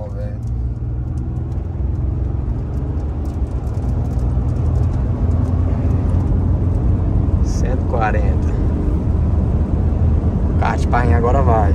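A Dodge Ram pickup drives fast, its engine and road roar loud and steady throughout as it builds speed, with excited voices talking over it.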